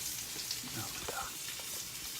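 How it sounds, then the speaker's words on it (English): Duck breast sears in a hot pan, a close, continuous hissing sizzle with a few faint knocks, and a voice murmurs briefly in the background. "I've been searing on that second side."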